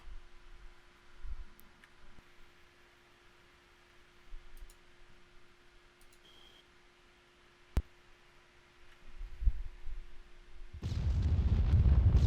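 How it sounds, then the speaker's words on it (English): Video game audio from ArmA 3: quiet background with scattered clicks and a few muffled thuds, then a loud, roaring vehicle explosion rumble that swells and continues to the end. "Now you'll start to hear explosions."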